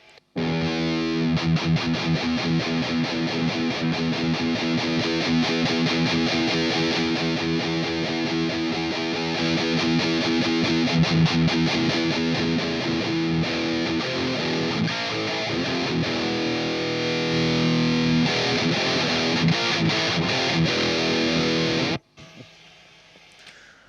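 A Peavey Transtube Supreme guitar amp head with its distortion channel engaged, playing loud sustained overdriven electric guitar chords and riffs that continue steadily before cutting off abruptly near the end.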